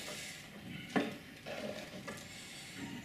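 Rabbit liver frying in homemade ghee in a pan, a soft continuous sizzle with a few stirring and scraping knocks from the pan, fairly quiet and close.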